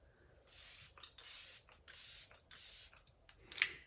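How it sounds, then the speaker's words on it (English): Several short hissing sprays of a makeup setting spray mist bottle, four or five quick bursts with brief pauses between, close and fairly quiet. "we're going in with Let It Set Refreshing Spray."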